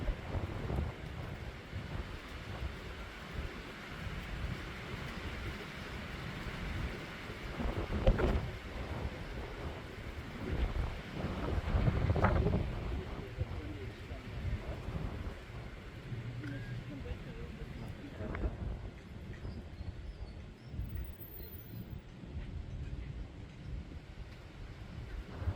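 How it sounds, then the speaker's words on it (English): Strong wind buffeting a microphone at a bush camp in Chitake, Mana Pools, a continuous low rumbling roar with gusts swelling louder around the middle, fairly faint overall and steady to the end. "it was still very, very windy"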